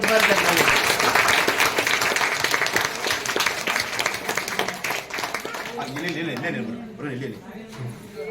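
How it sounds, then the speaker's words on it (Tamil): Loud, dense applause from a village audience at a Valli Kummi folk performance, steady and sustained before fading as voices and a tonal sound emerge near the end. "பலத்த கரகோஷம்"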